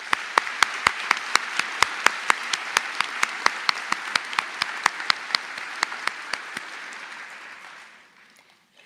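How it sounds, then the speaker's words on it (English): Applause from the audience at a college commencement ceremony, steady clapping from a crowd with a few sharp louder claps, fading out toward the end. "please join me in giving them a round of applause."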